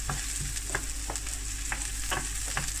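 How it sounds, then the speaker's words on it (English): Half an onion sautéing in oil in a pan for an easy vegan meal, a steady close sizzle with a few scraping stirs spaced through it and no talk. "I've put it in a pan with half an onion, and I'm just going to saute that"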